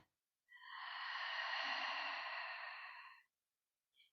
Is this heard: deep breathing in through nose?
yes